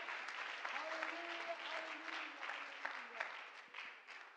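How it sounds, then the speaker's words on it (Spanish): A church congregation applauds steadily for a few seconds, a dense even patter of many hands that tapers slightly at the end, with a faint voice underneath. "Un aplauso a la gloria de Dios por su misericordia."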